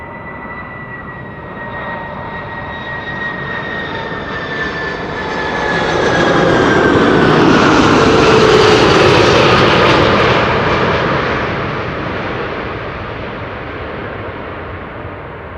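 A Saudia jet airliner lands at Amsterdam Schiphol Airport on a sunny day, its engine roar and whine swelling as it passes close overhead, then easing off.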